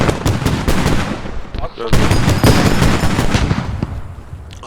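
An armored vehicle in a video game fires high-explosive shells: loud, dense volleys of booming gunfire pound almost continuously, broken by a brief lull before the barrage resumes at full force.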